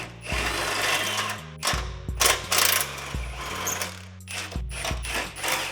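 Bolts on a treadmill motor mount are loosened with a ratcheting tool, producing close, quick bursts of mechanical clicking and whirring in short uneven runs, with brief pauses between them.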